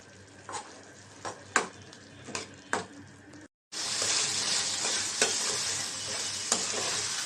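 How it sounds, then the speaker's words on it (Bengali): A spicy dried fish bhuna with whole garlic cloves is stirred in a pan. Sharp spoon knocks sound over a faint simmer, then after a brief silence the frying swells into a louder, steady sizzle with a few more clicks. "তো একটু আস্তা রসুন দিয়ে দিলাম।"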